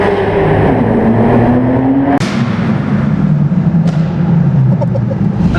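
A classic car driven as a daily gives a steady, loud engine drone from inside the cabin, its pitch climbing gradually through the gears, with a sharp shift break partway through and another brief transient later.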